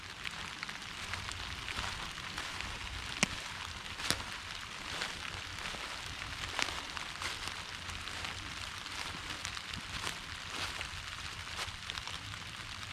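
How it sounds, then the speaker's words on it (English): Rain falls outdoors around old Civil War trenches as a faint, steady hiss with scattered soft drop ticks, quiet and distant, without speech. "It's raining out."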